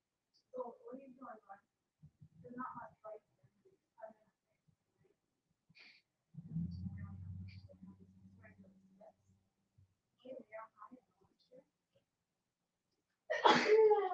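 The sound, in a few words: sneeze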